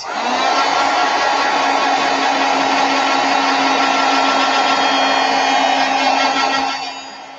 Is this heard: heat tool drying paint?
yes